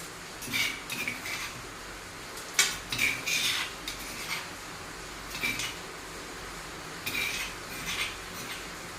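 Utensils scrape and clink against a plate as coarsely crushed spices are moved onto it for a Kerala-style chicken curry. Scattered metallic taps come in small clusters, fairly close and quiet, with soft background hiss.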